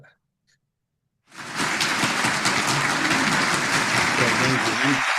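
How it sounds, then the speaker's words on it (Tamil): After a second of near silence, an audience at a meditation talk bursts into dense, sustained hand clapping that holds at a steady, loud level to the end. "நீங்க 30 வினாடிகள் கைதட்டுங்க."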